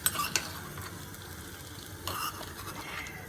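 Indian tadka tempering for corn dhokla sizzling in a pan while being stirred, with faint frying hiss and a few light scrapes and clinks of a spoon against the pan, close and without talking.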